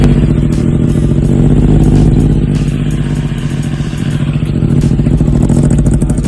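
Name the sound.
Kawasaki ZX25R twin-cylinder motorcycle engine making abnormal noise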